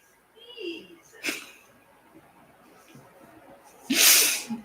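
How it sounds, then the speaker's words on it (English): A person sneezes once, loud and close, near the end, after a fainter sharp breathy burst earlier, set during a sound bath amid soft background noise. "you sneezed."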